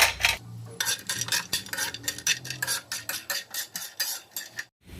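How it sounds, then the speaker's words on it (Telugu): Raisins and almonds are stirred one batch at a time in a pan for semiya payasam, with a spoon clinking and scraping against the metal in quick, repeated strokes. The sound is close and fairly loud, with no talking. "ఇప్పుడు వీటిని ఒక్కొక్కటిగా ఫ్రై చేసుకుందాము"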